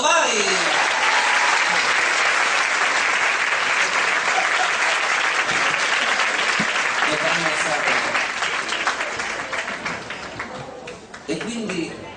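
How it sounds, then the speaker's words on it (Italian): An audience applauds at a live concert in Virle, Rezzato, a loud, dense wash of clapping that holds steady, then thins and fades toward the end, with a few voices audible beneath it. "applauso, vai!"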